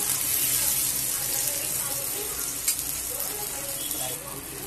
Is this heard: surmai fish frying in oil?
yes